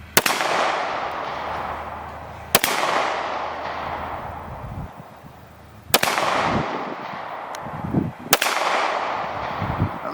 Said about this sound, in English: I'm gonna try to shoot slow again. I'm gonna try to shoot it for a little bit of accuracy.